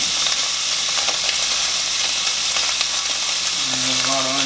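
Bacon and onions sizzle and crackle loudly in a pan, a dense, continuous frying hiss heard up close with faint stirring.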